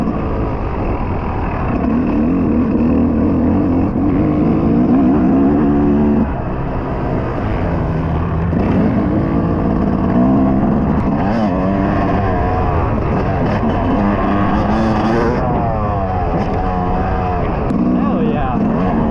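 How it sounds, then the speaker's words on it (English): A two-stroke trail bike revs on a motocross track, its engine rising and falling in waves while people talk loudly over it nearby. "Dude, that's a gnarly jump for a trail bike."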